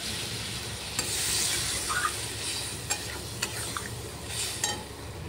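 Potato and eggplant for a fish curry get stirred in a frying pan, with a steady low sizzle and sharp spatula scrapes against the metal at irregular intervals, close and alone.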